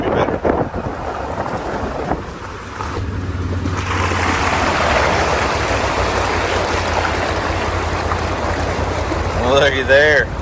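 A creek swollen with floodwater rushes in a steady broadband roar, with wind buffeting the microphone and a brief voice near the end.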